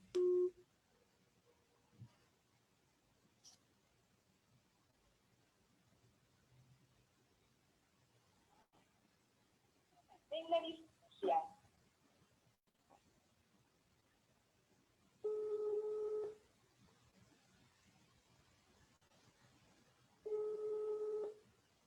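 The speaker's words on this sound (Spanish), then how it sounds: "Mejor te llamo por teléfono." Telephone dialing tones and a busy signal on a phone call, heard as a few short tonal blips early on and then two longer steady tone bursts separated by silence, with faint clicks in between.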